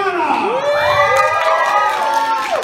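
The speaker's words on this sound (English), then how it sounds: "So let's give a big round of applause." A theatre crowd at a Rocky Horror pre-show contest bursts into loud, close whoops and high-pitched cheering, rising and falling voices layered over one another for the whole stretch.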